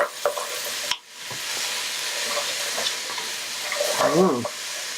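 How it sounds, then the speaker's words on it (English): Already cooked pasta, green onion and spices sizzle in a frying pan while being stirred, giving a steady hiss with light scraping and a short clatter near the end. "Put in the already cooked pasta, the green onion, and all the spices. Stir it around a bit."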